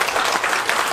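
Dense crowd applause at a hanbok fashion show opening ceremony, steady and fairly loud for a moment, with no speech over it.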